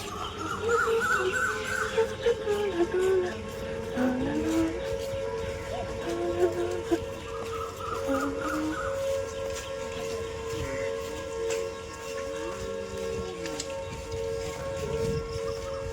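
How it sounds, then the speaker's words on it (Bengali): Railway station platform ambience with a train, marked by long rising and falling siren-like horn or whistle tones and a steady tonal hum over general background bustle. "আমি সবেমাত্র স্টেশনে আসলাম।"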